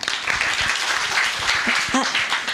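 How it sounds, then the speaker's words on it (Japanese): An audience at a Japanese business seminar gives supportive applause, a steady wash of clapping with a brief voice breaking through near the end. "応援の拍手お願いします"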